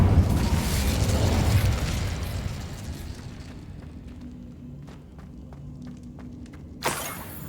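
An Incendio fire spell cast in Hogwarts Legacy, heard as a loud whooshing burst of flame that fades into crackling and small pops, followed by a sharp flare near the end.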